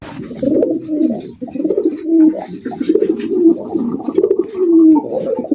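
Indian Kagoji pigeons offered for sale coo close by in repeated throaty, rolling phrases that keep going for several seconds, with no talking.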